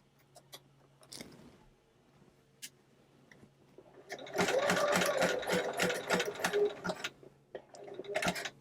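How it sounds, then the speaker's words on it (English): A sewing machine runs a zigzag stitch on elastic casing for doll pants and skirts, starting with a few faint clicks before a loud burst of rapid stitching that stops and restarts briefly. "I'm gonna go ahead and zigzag these. I have this on a zigzag."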